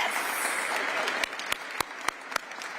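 Faint applause from the crowd at a Women's History Month reception, with a few sharp, separate hand claps standing out near the end.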